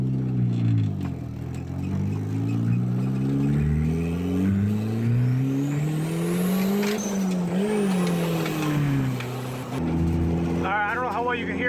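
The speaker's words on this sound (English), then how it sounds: "I'll try to do a little pull. See if I can make a little boost. Or at least get the blow off valve to make a sound." A turbocharged Honda CRX accelerates up close, its loud engine note climbing through the gears with pitch rising and dropping between shifts, and a brief airy rush near the end.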